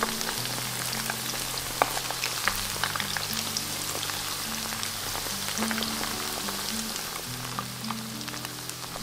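Shrimp cakes deep-frying in oil on a stove turned to high heat, a steady dense sizzle and crackle with scattered pops, close and continuous, no talking.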